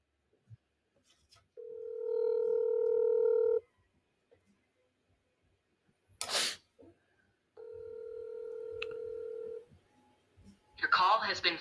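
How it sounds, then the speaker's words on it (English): An outgoing telephone call rings through the handset as two long, steady ringback tones separated by a pause, with brief handling noises between and after them. "Let me call Chris"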